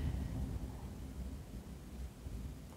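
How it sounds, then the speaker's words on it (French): Distant thunder rolls in as a storm builds, a low continuous rumble that lingers through the whole stretch with no voices over it. "ça commence à gronder"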